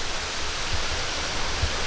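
Air Terjun Harimau Berjemur, a waterfall reached by motorbike and hiking trail, roars as a steady, dense wash of falling water, close and continuous with no voices.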